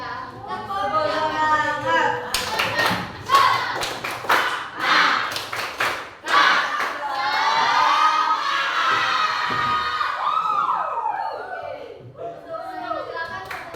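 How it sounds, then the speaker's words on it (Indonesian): A classroom audience performs a rhythmic Indonesian spirit clap with chanting, giving bursts of patterned claps amid lively voices and shouting, then dying down toward the end. "coba kita tepuk semangat sekali lagi"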